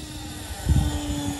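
An Eachine F18 RC jet with a 50mm electric ducted fan passes overhead at under half throttle, a steady airy whine that swells briefly as it goes over and then settles, moderately loud outdoors.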